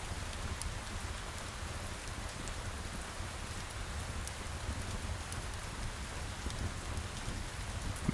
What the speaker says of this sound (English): The rain plays a soft and soothing lullaby.